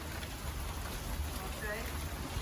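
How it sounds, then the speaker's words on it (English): Rain falls steadily as a faint, even hiss with scattered drops, heard around a Ford Ranger 4x4 under work. "Also, it's raining,"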